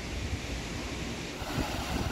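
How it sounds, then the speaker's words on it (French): A waterfall pours in a continuous broadband rush of falling water near the microphone, steady and fairly loud, with a slight swell toward the end and no voices over it. "Les enfants sont en train d'admirer la cascade."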